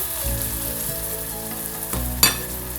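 Onions frying in a pan until brown for aloo dum, a continuous close crackling sizzle with a low rumble underneath and one sharp clink of a utensil near the end.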